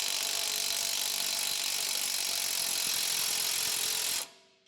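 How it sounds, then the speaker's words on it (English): A ratchet cranks steadily and loudly for about four seconds, loosening the strut-to-rear-axle mounting bolt on a 2021-2024 Ford Bronco 4WD, then stops abruptly and the sound fades out. "ratchet to loosen the strut to rear axle mounting bolt"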